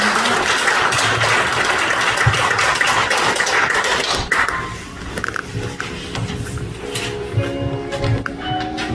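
An audience at a nursing home's first anniversary ceremony applauds to welcome an elderly resident, a steady wash of clapping for about four seconds that fades out, followed by quieter room sounds.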